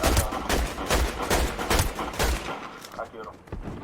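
Scoped rifle in a shooting video game fires in a rapid string of loud, close cracks over roughly two and a half seconds, then stops, leaving quieter game ambience.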